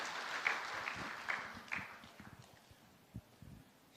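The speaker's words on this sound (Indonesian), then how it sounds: "Boleh kasih tepuk tangan buat tim Praise and Worship kita." A church congregation applauds the praise and worship team, with scattered, fairly faint hand claps that thin out over a few seconds, and a little talk mixed in.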